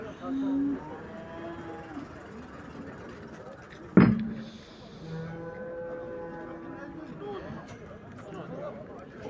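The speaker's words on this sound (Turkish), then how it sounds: "buradaki süt inekleri bu sefer güzel inekler gelmiş" Dairy cows at a busy livestock market in Çubuk, Ankara, with one loud close moo standing out amid crowd chatter and background murmur, and people talking throughout.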